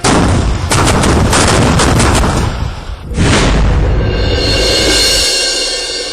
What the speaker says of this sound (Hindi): दुश्मन को दहराने वाली बोफोर्स तोप।